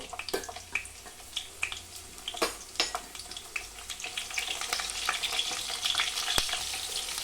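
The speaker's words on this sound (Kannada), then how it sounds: "ಫಸ್ಟು ಹಸಿಮೆಣಸಿನ್ಕಾಯಿ ಫ್ರೈ ಮಾಡ್ಕೋಬೇಕು." Green chillies frying in several tablespoons of oil in a pan, a steady crackling sizzle with sharp pops and spits scattered throughout, close and fairly loud with no voices.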